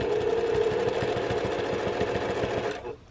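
A sewing machine back stitches the fabric of a scarf holder, running in a fast, even mechanical chatter close by, then stopping abruptly near the end.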